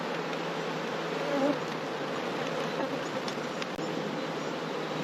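Honeybees buzz densely and steadily at close range around a hive as a reared queen bee is let out, with the drone holding even throughout and no talking.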